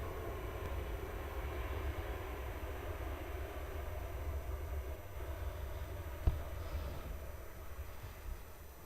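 A distant airliner at Melbourne Airport makes a steady low jet rumble, faint and continuous, with a single sharp click partway through.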